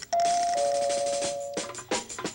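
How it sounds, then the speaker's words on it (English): A doorbell chimes with long ringing tones, followed by a few clattering knocks and a brief second chime. "Answer the doorbell."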